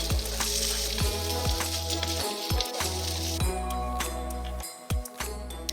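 Food sizzles in a hot pan with a steady close hiss, broken by several sharp metallic clinks and taps of a utensil against the pan, and no talking.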